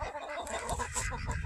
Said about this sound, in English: We have some very friendly birds. These are Rhode Island Reds.